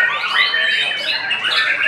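A songbird at a bird-singing contest in Bandung squawks and trills loudly and continuously, close by, with dense, shrill warbling.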